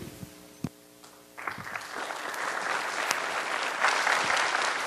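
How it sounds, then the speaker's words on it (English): Applause at a Shasta County supervisor district debate: a few isolated claps at first, then the room joins in and the clapping swells into a full, sustained round that grows slightly louder toward the end. "let's give them a nice round of applause"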